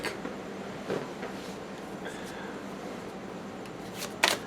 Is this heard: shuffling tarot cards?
yes